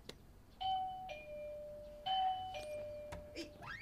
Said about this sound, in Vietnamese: Đúng là có chuông, không gõ cửa nữa.